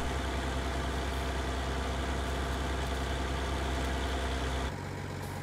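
A combine harvester engine in Farming Simulator 19 drones steadily at idle with a deep, even rumble, then drops abruptly to a quieter hum near the end.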